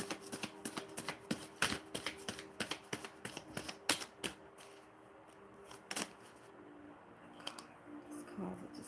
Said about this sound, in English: This cards are just flying out